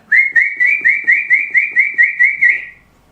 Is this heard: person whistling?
yes